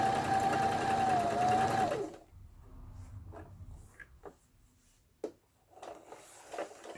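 An Elna 2600 home sewing machine runs a special stitch pattern with a steady whirring motor hum for about two seconds, then stops, leaving faint clicks and handling knocks.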